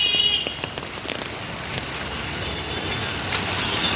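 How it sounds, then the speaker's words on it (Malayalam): Steady heavy downpour of rain in Mumbai with a constant hiss and scattered drops pattering on surfaces, close by, no voices. "സൂപ്പർ മഴയാണ് ഗൈസ്"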